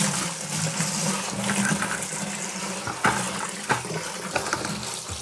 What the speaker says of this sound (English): Now we're just gonna pour it from bucket to bucket.